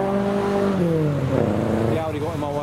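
Custom Audi pulling away from a car meet, its engine note rising and falling in a loud, close revving sweep over a couple of seconds, with someone talking over it.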